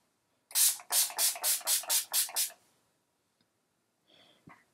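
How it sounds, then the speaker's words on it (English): Urban Decay Chill makeup setting spray is pumped in eight quick rhythmic hissing bursts close to the mic, followed by quiet rustles and a soft breath. "And then I'm going to set everything with my new Urban Decay Chill Makeup Setting Spray."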